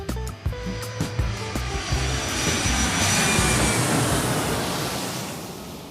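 A fixed-wing airplane takes off with a loud, steady engine roar that swells and holds with broad rushing noise, alone and close, with no voices.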